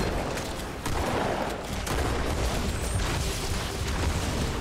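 Dense Halo 2 Anniversary co-op combat: continuous bursts of gunfire and booming explosions piling up without pause.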